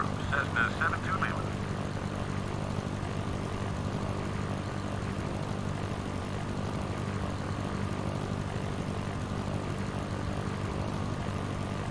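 A Cessna propeller engine drones steadily in flight in a flight simulator game, a constant low hum that runs unbroken under radio-style talk.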